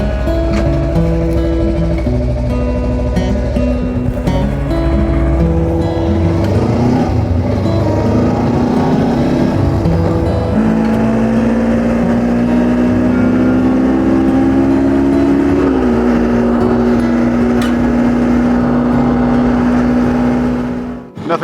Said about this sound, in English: Nothing quite like the sounds of a motorcycle engine at 6:30 in the morning.